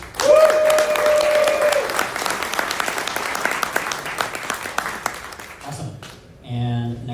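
An audience at a tech startup demo night in an office applauds, loud dense clapping that gradually thins out and fades, followed by a brief voice near the end.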